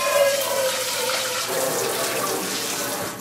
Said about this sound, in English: I'm going to pour the oil and everything into the water, like so, into the strainer